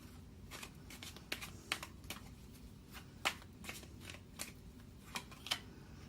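Tarot cards are shuffled and drawn by hand, a run of quiet, crisp riffling snaps and flicks at irregular intervals, close by with no talking.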